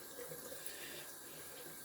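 Tap water runs steadily into a sink as a shaving soap tub is rinsed out, a continuous close splashing wash lasting about two seconds with no talk.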